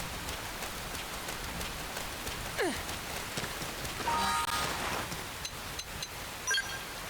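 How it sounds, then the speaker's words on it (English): Rain in the video game Xenoblade Chronicles X, rendered as a faint, distorted hiss like static, with a few brief chirps and sweeps breaking through the steady wash. "I think that's supposed to be the sound of rain, and it genuinely does not sound like it."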